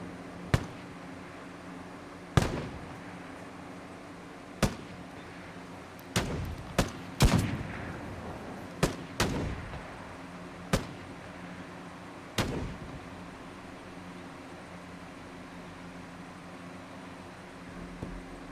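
Gunfire and explosions in the military strategy game Broken Arrow: scattered single sharp shots and heavier booms spaced a few seconds apart, with a brief cluster of rapid reports in the middle, all over a low ambient rumble.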